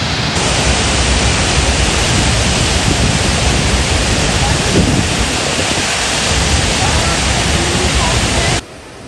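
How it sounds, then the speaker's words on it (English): Tahquamenon Falls, the second largest waterfall east of the Mississippi, roars in a loud, steady broadband rush that holds constant for about nine seconds before cutting off abruptly. "Tahquamenon Falls is the second largest waterfall east of the Mississippi"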